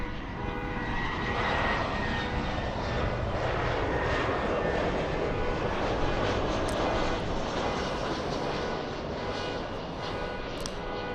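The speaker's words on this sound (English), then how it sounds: "Delta coming in from Portland today, flight 2979. A little A319." Delta Airbus A319, 23 years old, arriving from Portland at Los Angeles, a loud, sustained broadband engine roar that holds steady throughout, near and alone without speech.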